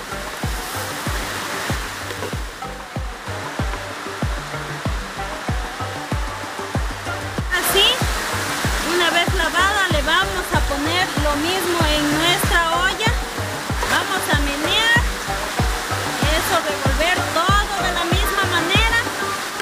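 Water pours steadily into a pot of bone soup on the stove, making a continuous rushing splash with a musical backing track audible behind it for most of the stretch.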